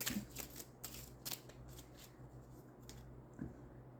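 Tarot cards are shuffled close up in quick riffling bursts and soft slaps at low volume, with a faint steady hum underneath and no talking.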